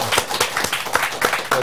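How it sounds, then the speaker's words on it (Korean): A studio audience claps in short scattered bursts, close and moderately loud, sounding like the ragged start or end of applause. "큰 박수로."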